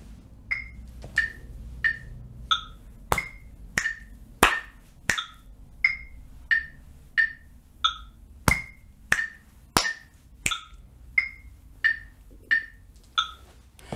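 Body percussion pattern of chest slaps, claps and finger snaps repeating steadily at half tempo, about twenty distinct close hits in an even rhythm with no speech.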